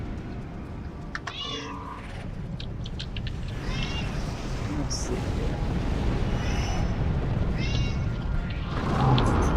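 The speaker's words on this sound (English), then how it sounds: "Don't mind my cat. She gets a little vocal." A pet cat meows loudly and repeatedly near the microphone, its drawn-out cries rising and falling over a continuous low rumble of video game explosions, while a person speaks briefly.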